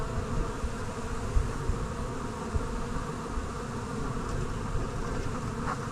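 Honeybees buzz thickly and continuously around an opened hive during a swarm-prevention split, a close, dense drone with no voices.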